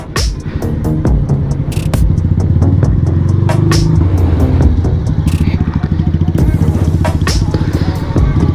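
Suzuki Hayabusa motorcycle engine rumbling loud and close on a hill-station ride near Dagshai, a steady throbbing roar with rattling clatter and occasional clicks throughout.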